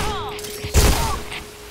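A single sharp bomb blast in the shooter game Point Blank booms out mid-clip, a loud low thud with a short rumbling tail after some faint game sounds.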